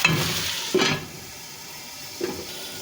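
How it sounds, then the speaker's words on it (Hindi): Potatoes for achari aloo gobi fry in a pan over high heat, giving a steady, soft sizzling hiss. Two or three brief stirring scrapes rise above it, all close by and fairly quiet. "इसको हम आँच ज़रा भी तेज ही रखेंगे और 2 मिनट के लिए दम दे देंगे ताकि अच्छी तरह ये फ्राई हो जाए।"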